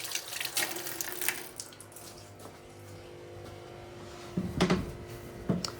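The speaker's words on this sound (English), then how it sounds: "Let's wash my hands again." Tap water running into a kitchen sink during hand washing at home, a steady broadband wash with a few louder splashes toward the end, fairly close and with no voices.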